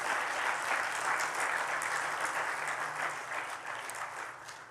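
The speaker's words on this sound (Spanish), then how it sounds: "Denle un aplauso al Señor Jesús." A church congregation claps steadily and densely throughout, a sustained wash of applause that stays loud and then eases slightly toward the end, with no voices rising above it.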